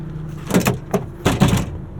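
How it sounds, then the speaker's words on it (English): Tailgate of a 2024 Toyota Tacoma SR XtraCab dropping open with no damping, giving a few loud metallic clunks and rattles in quick succession, the biggest thud landing near the end. "Even the tailgate isn't damped."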